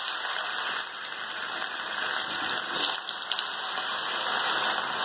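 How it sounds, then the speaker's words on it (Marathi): Potatoes frying in hot oil in an iron kadhai make a dense, even crackling sizzle, close and steady from start to finish, with no talking. "बटाटा थोडस लालसर तळून दिला, सगळं बटाटा एकदमच घातला।"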